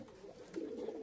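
A racing pigeon of a Dub bloodline gives a soft, low, steady coo that carries through the whole brief moment, fairly quiet and close.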